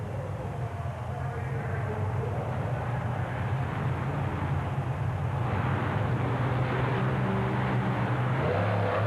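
Monster truck engines, including the Bigfoot Ford, roar and rev loudly at the start line of a 1991 USHRA indoor arena event, the noise surging in the second half under a voice over the loudspeakers.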